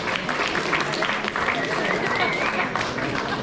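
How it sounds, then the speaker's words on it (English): A room of guests at a wedding reception applauds the bride's mother, steady dense clapping filling the space for a few seconds with a murmur of voices mixed in. "Give her a round of applause."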